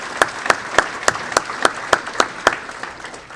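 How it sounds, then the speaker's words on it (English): An audience at an entrepreneurship hall of fame ceremony gives a short round of applause, sparse and uneven, with distinct individual claps over a light background of clapping. "Joe DeCosmo, we're going to give him a round of applause"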